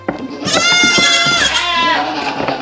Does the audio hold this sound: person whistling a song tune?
no